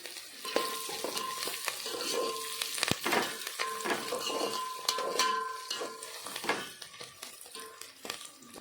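Turmeric being stirred into hot oil with fried curry leaves for a dried fish, brinjal and tomato curry: a steady sizzle under repeated scraping and clinking stirs in the pan, with no talking.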